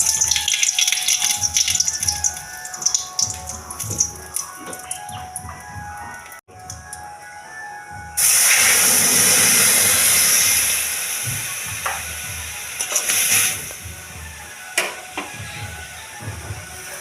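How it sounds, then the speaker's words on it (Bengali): Mustard seeds and a dried red chilli hit hot oil for pineapple chutney, starting with scattered crackles and pops, then surging into a loud, steady sizzling hiss that slowly eases off. "ফোড়ন দিচ্ছি একটা শুকনো লঙ্কা"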